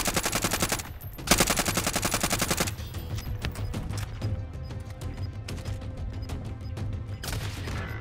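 Loud, dense bursts of rapid automatic gunfire and sharp single shots, including a sniper shot, ring out almost continuously in a video game firefight, with a brief lull before the firing resumes.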